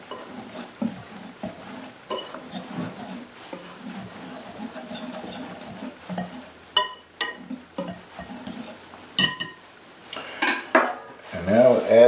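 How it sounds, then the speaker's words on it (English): Sugar, salt and flour are stirred together in a bowl, making irregular scraping and clinking of a utensil against the bowl that grows busier and louder toward the end, close by, with no talking. "Mix those together"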